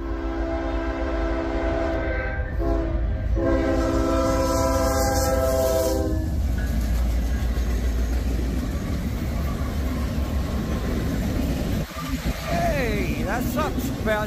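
A Norfolk Southern freight train led by NS 4001 and 3950 sounds a loud, sustained multi-note horn for several seconds at Poorman Road, then rolls past with heavy rumbling and squealing wheels, close and steady throughout.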